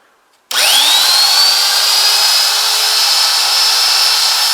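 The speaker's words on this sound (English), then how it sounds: "Let's fire it up and take a look and a listen." A $45 Harbor Freight bench grinder starts up abruptly and then runs at a loud, steady whine with a smooth, even hum. It keeps going without speech.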